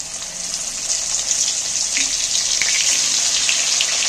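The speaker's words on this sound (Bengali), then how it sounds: "এবার আমি কই মাছগুলো একটু ভেজে নেব" Koi fish frying in a pan of plenty of hot oil over a raised gas flame, four fish crowded in together, giving a steady loud hiss and sizzle with scattered crackles throughout, no talking.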